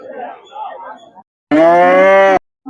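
A cow at a Tamil cattle market gives one loud, close, sustained moo of about a second, following a stretch of muffled voices and background noise.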